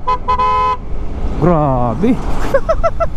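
A vehicle horn gives a couple of quick toots on a highway as a truck overtakes. The horn is followed by a man's nearby exclamations over road noise.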